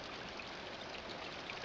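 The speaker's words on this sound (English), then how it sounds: "there's just a little tiny trickle of water coming out of a natural spring" Tiny trickle of water running from a natural spring near a mountaintop, a faint steady splashing hiss with a few small drips near the end.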